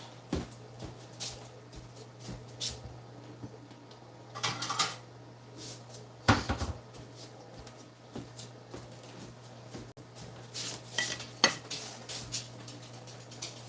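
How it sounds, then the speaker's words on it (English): Dishes and plates clattering in a home kitchen, with scattered clinks and scrapes, a couple of louder rattling bursts, and a steady low hum underneath. "I'm going to get a plate."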